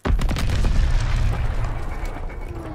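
A grenade goes off in a WW2 video game: one sudden loud boom followed by a rumbling, decaying tail that fades over a few seconds.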